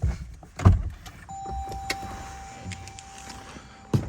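A steady, high electronic warning tone sounds continuously inside a car, with a few soft clicks and thumps around it.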